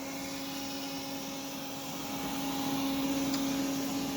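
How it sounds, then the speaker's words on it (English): A Roborock S4 robot vacuum runs in turbo mode, its highest suction setting, while cleaning carpet, giving a steady whining hum with a constant airflow hiss and no other sounds. "It is on its highest suction setting right now"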